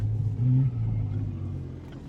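A 2019 Jeep Wrangler Rubicon with a 2.0-liter engine pushes into a flat patch of mud, its engine giving a brief low revving surge and rumble, loud and close, then settling back to a steady drone.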